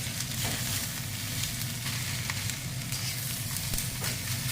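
Greens wilting and sizzling in a hot pan with farro, a steady, close frying hiss with faint stirring scrapes throughout, no voices.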